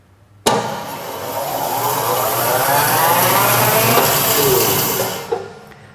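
A bandsaw starting abruptly, then running with a loud, steady whirring hum that holds for several seconds before the foot brake is applied, the noise dropping away quickly with a brief clunk near the end.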